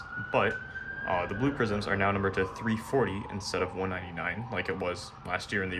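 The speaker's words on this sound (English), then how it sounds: "sorry about the siren in the background, I am in New York City" Emergency vehicle siren on a New York City street, a steady wailing tone sweeping slowly in pitch throughout, heard clearly beneath continuous close talking.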